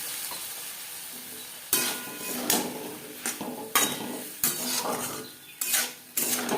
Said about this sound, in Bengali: লো টু মিডিয়াম ফ্লেমে চার পাঁচ মিনিট নাড়াচাড়া করে নেব